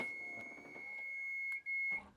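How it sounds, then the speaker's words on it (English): A steady high-pitched electronic beep tone from a Toyota Hiace Welcab wheelchair lift runs throughout, faint and fairly distant, with soft clicks and rustling around it. "Press it twice, 2 beeps, it will clear"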